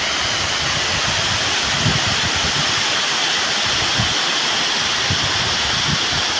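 Steady, dense roar of falling water at the Manpur Dam in Keonjhar, loud and continuous throughout, like a waterfall heard up close with no voices.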